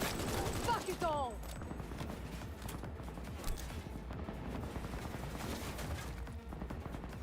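Gunfire in the video game Cyberpunk 2077 Phantom Liberty, a rapid burst of automatic shots followed by a dense, busy stretch of combat noise with voices shouting over it.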